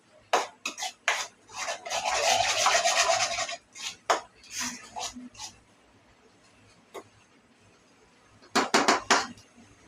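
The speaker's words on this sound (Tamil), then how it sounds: "நல்லா மிக்சிங் பண்ணுறோம்" Beef curry masala being stirred in a pan, a scraping, rasping spoon-on-metal sound in bursts, dense for a stretch then in short strokes, close and fairly loud with no talking.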